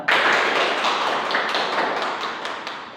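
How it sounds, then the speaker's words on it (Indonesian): A classroom of students claps for their male teacher, a dense burst of hand applause that starts abruptly and slowly thins out over a few seconds, with no talking. "Berikan tepuk tangan kepada Bapak"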